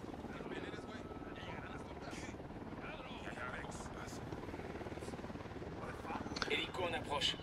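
A helicopter's rotor thrums steadily in the background in the video game Ghost Recon Wildlands, with faint voices and a few game-like sound effects near the end.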